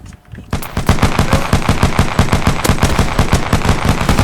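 Rapid automatic gunfire in a video game, a loud steady burst of evenly spaced shots continuing for several seconds after a short quiet lead-in.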